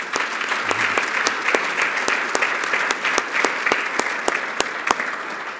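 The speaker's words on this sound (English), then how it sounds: "So can we give them a round of applause as well?" Luncheon guests at a community campaign event give a round of applause, dense steady clapping with sharp individual claps standing out, loud and close, lasting several seconds.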